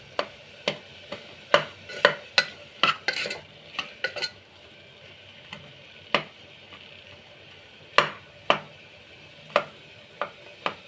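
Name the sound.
mashing tomatoes in a pan for veg daliya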